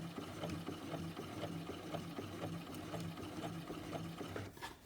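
A sewing machine stitches in a steady rapid rhythm, its whirring hum and ticking needle strokes soft but clear, with a brief pause near the end.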